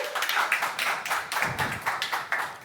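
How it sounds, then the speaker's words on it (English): Small audience clapping to welcome a speaker at a JavaScript and TypeScript decorators talk, a brief patter of rhythmic claps at moderate volume with no talking. "give a warm round of applause for Antanas Šepikas"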